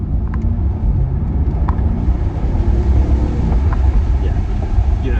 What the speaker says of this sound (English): we'll just give it a little bit of a bomb in manual mode